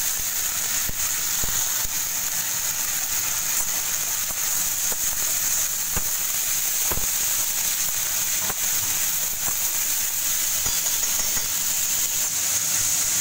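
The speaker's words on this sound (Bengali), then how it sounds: "আলুটা একটু ভাজা ভাজা হয়ে গেছে। আমি গাজর আর বিনস দিলাম।" Potatoes, carrots and beans fry in a pan with a steady, even sizzle, a bright hiss that holds constant throughout and is broken by occasional faint pops and crackles.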